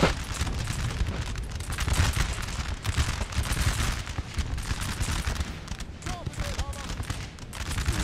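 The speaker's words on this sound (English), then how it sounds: "my infantry open up on the cavalry" Infantry musket volleys in Napoleon Total War fire on cavalry: a dense, continuous crackle of overlapping shots and booming battle noise, loud and sustained throughout.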